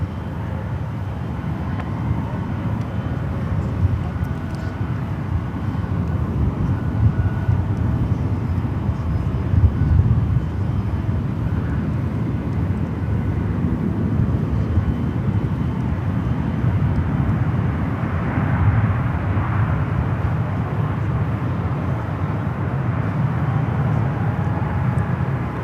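An American Airlines jet landing on runway 28 Right at San Francisco International Airport, heard as a steady, loud engine roar with broad low rumble that holds evenly throughout, with no voices.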